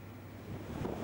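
Storm wind and surf from Typhoon No. 1 striking the coast of Ca Mau, southern Vietnam: a steady, loud broadband roar of gusting wind and breaking waves with microphone buffeting and no voices.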